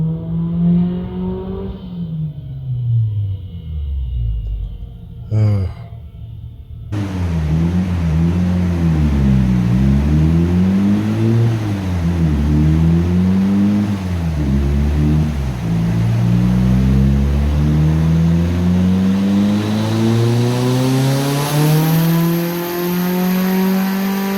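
A Locost kit car with a forged turbo engine runs during late-night engine mapping, its note rising and falling in repeated revving sweeps, loud and close, with a sharp hiss near the end.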